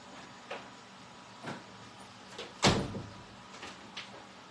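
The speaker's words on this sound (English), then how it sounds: "I'm going to close my door." A home door is swung shut with a single firm thud that stands out from several softer knocks and clicks in a quiet indoor room.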